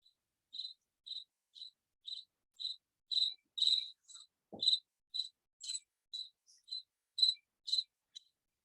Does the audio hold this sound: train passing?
no